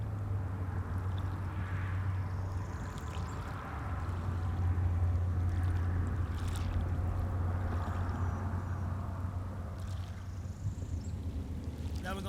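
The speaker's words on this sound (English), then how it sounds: "we're still driving in the same car with the air conditioner running" Inside a moving car with the air conditioner running, a constant close rumble and airy hiss fill the cabin, with a steady low hum throughout.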